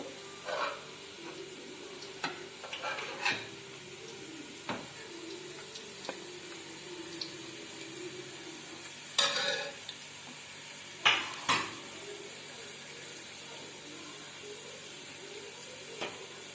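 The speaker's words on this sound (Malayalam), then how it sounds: "നമ്മളെ ഉള്ളിയൊക്കെ നല്ല പോലെ മൂത്തിട്ടുണ്ട്" Onions fry in ghee for ghee rice, a faint steady sizzle broken by occasional scrapes and clinks as a spoon stirs the pan, with a few sharper metallic knocks near the middle.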